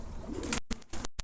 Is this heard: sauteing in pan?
no